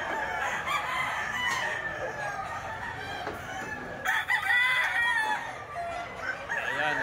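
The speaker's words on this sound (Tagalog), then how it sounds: "Ang daming manok na naman dito mga boss." Many roosters at a chicken market in Bukawi crow and cluck in a dense, continuous chorus, with overlapping cock-a-doodle-doos rising loud and close over a constant murmur of fowl.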